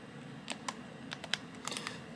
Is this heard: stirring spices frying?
no